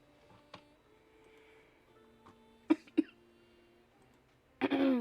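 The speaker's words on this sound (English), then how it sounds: "Sorry for the bit of coughing." Several short, sharp coughs break a quiet room, a single one early, then a close pair, and a louder burst at the end.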